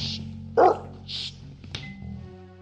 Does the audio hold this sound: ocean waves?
no